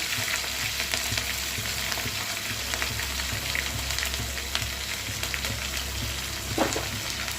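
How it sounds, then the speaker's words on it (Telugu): Onion pieces frying with curry leaves and seasoning in oil for okra pulusu, a continuous crackling sizzle with scattered pops and occasional light stirring, close and unbroken. "ఉల్లిపాయ ముక్క కాస్త మగ్గితే సరిపోతుంది మరి బ్రౌన్ అవసరం లేదు"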